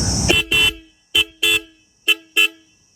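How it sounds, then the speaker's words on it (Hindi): Six short horn honks from a modified Royal Enfield Classic 350 Reborn motorcycle, loud and close, sounding in three quick pairs with brief silences between them. "अब मैं आपको हॉर्न्स की वॉइस सुनाता हूँ एक बार"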